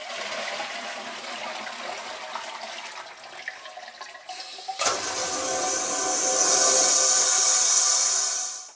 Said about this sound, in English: I'll isolate the toilet first because it's easy to flush